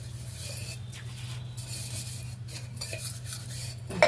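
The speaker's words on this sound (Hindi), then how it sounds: "सबसे पहले मैं धोऊंगी बर्तन।" Dishes, pots and cutlery clink and scrape while being washed by hand in a home kitchen, a steady run of light metallic taps and rubs over a low constant hum, with a louder clatter at the very end.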